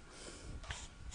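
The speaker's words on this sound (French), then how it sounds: "Il renifle." A horse gives a quiet, short sniff of breath close by, with a couple of soft nasal puffs over faint background noise.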